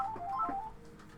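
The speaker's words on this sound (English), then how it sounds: "Oh, that's the phone. I said there'd be a phone call." In the BattleTech video game, a phone rings with a quick run of electronic tones at moderate volume, followed by a faint tail, with no talking over it.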